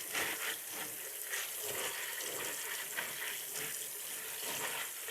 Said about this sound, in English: Get these beans pretty washed up.